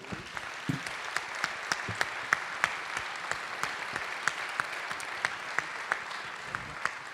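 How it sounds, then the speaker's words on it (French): A modest audience applauds at a French award presentation, steady scattered clapping with individual sharp claps standing out, moderately distant and fairly quiet throughout. "on vous applaudit bien évidemment"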